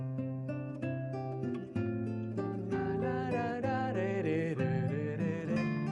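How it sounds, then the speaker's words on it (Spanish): Plucked nylon-string acoustic guitar playing a melody with chords, warm and close, notes ringing steadily with no voices. "Está hecha de palo, tiene cuerdas de nylon y suena así."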